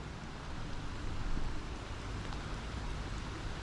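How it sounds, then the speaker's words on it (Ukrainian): Autumn rain beginning to fall during a carp fishing trip, a steady broadband hiss of drops that swells slightly and stays constant with no talking. "Бо дощ такий починається гарний."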